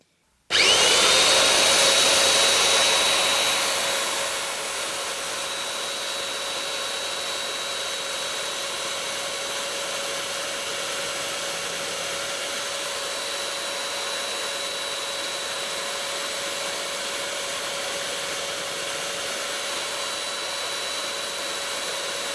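A belt sander linisher runs continuously with a loud, steady grinding whine. It is loudest in the first few seconds, then holds an even drone. No one speaks.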